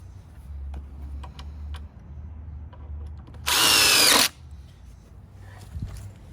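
Power drill driving screws into deck boards on a ground-level deck build, one short loud burst of drilling lasting under a second, surrounded by quieter outdoor background with low rumble.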